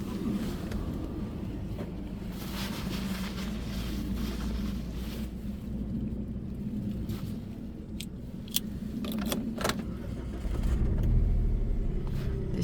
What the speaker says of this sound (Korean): 네, 시동이 걸렸습니다